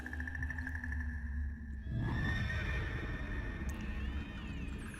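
A skeletal horse whinnies in the game The Dancing Pumpkin, its neigh rising over eerie tonal background music with a low rumbling underneath.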